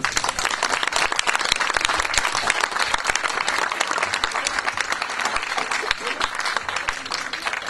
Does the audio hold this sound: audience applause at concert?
yes